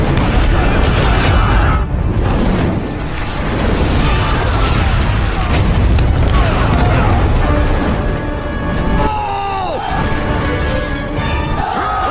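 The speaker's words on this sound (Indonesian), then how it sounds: "perbatasan Lintong digempur meriam" Cannon fire booming in heavy repeated blasts and rumbles, with a voice talking over the bombardment and whistling tones cutting through.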